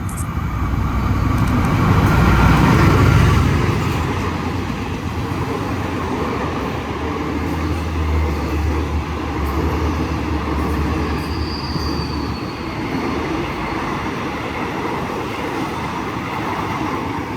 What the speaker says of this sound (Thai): มีขบวนรถเข้าสถานีครับ ซึ่ง เป็นขบวนรถด่วนที่ 84 ตรัง กรุงเทพอภิวัตนะครับ